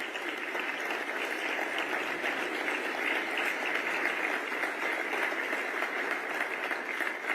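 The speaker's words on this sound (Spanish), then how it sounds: "Un aplauso para el señor Santiago Bausili" A packed stadium audience in Spain applauds steadily through a political speech, a dense, even wash of clapping that continues without a break.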